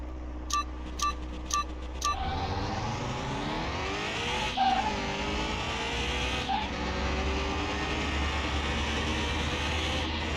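Car racing in Car Mechanic Simulator 2021 on PC: a steady engine drone with rising and falling pitch sweeps as the car accelerates and shifts, continuous and loud, with a few brief tonal beeps at the start.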